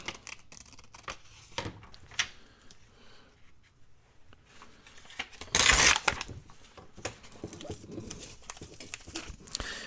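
Tearing a white paper strip from a handmade garden journal, a single loud ripping burst midway among quiet rustles and taps of paper handling, close by.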